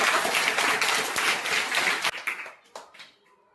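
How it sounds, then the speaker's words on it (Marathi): A classroom of students clapping for a pupil, Aaradhya Chavan, after she explains a maths problem: a dense burst of applause that trails off into a few scattered claps. "हिच्यासाठी जोरदार टाळ्या वाजवायच्या"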